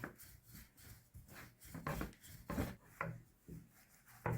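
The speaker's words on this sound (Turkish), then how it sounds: "Bezelerimizi unla açıyoruz arkadaşlar" A wooden rolling pin rolls out floured pastry dough sheets for leek börek, giving soft, rhythmic rubbing and knocking strokes that are quiet and close, with no talking.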